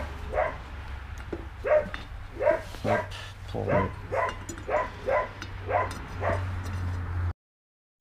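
Dogs bark repeatedly, about a dozen sharp barks in a fairly steady rhythm, close by, over a low hum, with a brief spoken word early on, near a scooter engine being fitted with a Malossi cylinder.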